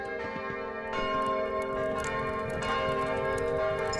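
In the video game Kingdom, a bell rings at dawn. It gives several resonant, overlapping strikes with a long, shimmering ring that keeps sounding, loud and sustained, with no voices.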